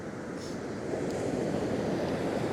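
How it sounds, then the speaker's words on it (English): Choppy waves breaking on a beach in the morning, a steady broadband wash of surf with some wind buffeting, continuous and fairly loud with no voices. "we're on the beach and the waves are right choppy this morning"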